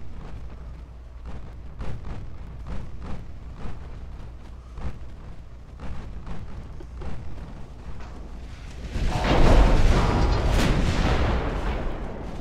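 Warship guns fire in a naval battle in Ultimate Admiral: Dreadnoughts, starting as a series of muffled distant thuds that give way to a loud, sustained roaring salvo near the end.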